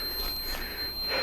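A wood moisture meter beeps with a steady high-pitched electronic tone, sounding continuously over faint background noise while testing firewood.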